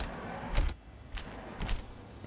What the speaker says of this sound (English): Sliding door.